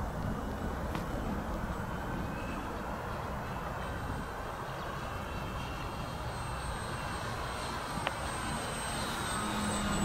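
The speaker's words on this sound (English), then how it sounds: "Pretty little plane." A small FW190 model plane flies overhead outdoors, a steady engine drone holding at a constant level throughout against breezy ambient noise, with no voices.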